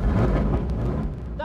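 Ford GT40 with a 4.7 litre engine roaring loudly and close, a dense low rumble sustained throughout, ending with a brief higher whine.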